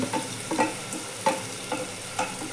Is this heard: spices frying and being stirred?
yes